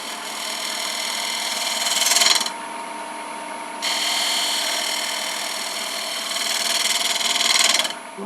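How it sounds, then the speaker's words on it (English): A thin bowl gouge trims a spinning Bradford Pear blank on a wood lathe, a steady whirring scrape with a sustained tonal hum that swells louder around two and seven seconds as the cut bites harder, close and unaccompanied by talk. "I'm going to just take this real thin bowl gouge and just slowly bring it around."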